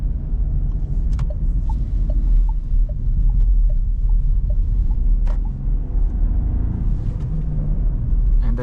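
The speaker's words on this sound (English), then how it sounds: "And I also quite like the sound of the engine." A 2026 Renault Clio 6 with a 115 hp manual petrol engine, driven in sport mode at night, gives a deep steady engine rumble from inside the cabin with faint ticking clicks over it.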